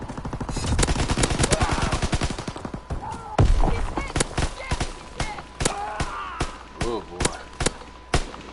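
Gunfire from a weak gun in a PS4 shooter, first a fast run of shots, then single sharp cracks at irregular intervals, loud and close. A voice talks between the shots.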